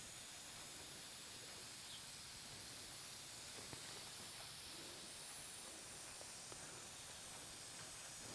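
Steady, broad hiss of water spraying from a fine mist propagation nozzle, continuous throughout with no pauses.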